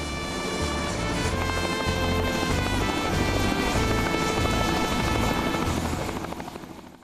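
A helicopter at a busy Grand Canyon tour base gives a loud, steady rotor thrum that fades slightly near the end, with no voices.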